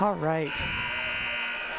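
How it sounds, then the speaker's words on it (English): A gym scoreboard buzzer at a high school volleyball match sounds as one loud sustained electronic drone of about a second and a half, starting just after a brief spoken phrase and holding steady to the end. "Someone's setting off the buzzer."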